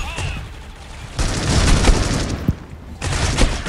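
Gunfire crackles in Critical Ops ranked play, rapid bursts of shots in two clusters with a sharp crack between, loud and close over game ambience.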